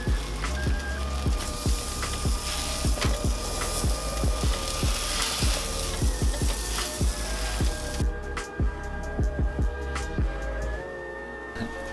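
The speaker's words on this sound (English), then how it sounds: "I like toasting both sides of the bread, just adds that extra level of crispiness." Bread sizzles and crackles as it toasts in a very hot pan, with a steady frying hiss and scattered sharp pops and ticks that thin out near the end.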